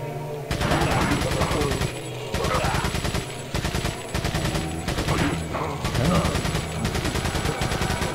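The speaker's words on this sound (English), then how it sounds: "I'll just get the TMP and immediately start firing at the fuck faces" A TMP submachine gun in Resident Evil 4 fires long continuous automatic bursts, loud and close, broken by brief pauses between several sustained strings of shots.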